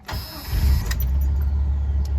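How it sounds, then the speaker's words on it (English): A 1989 Jeep Wrangler Islander Edition with a carbureted engine cranks briefly, then catches and settles into a loud, rough, low idle, heard close up with no talk. "Make sure the car is in neutral, and we're going to give it a couple pumps of the gas, get some fuel into the carburetor, and then go ahead and crank."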